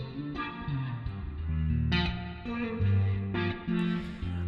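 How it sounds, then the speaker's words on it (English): A reverberant instrument with a chorus effect plays sustained, shimmering chords in a music production setting, phrases rising and overlapping with a smooth, washed tail. "Put some chorus on it."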